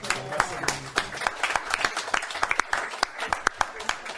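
An audience claps at a Bulgarian devotional theatre performance about Srimati Radharani, the applause dense and steady with sharp individual claps, while a voice speaks over it.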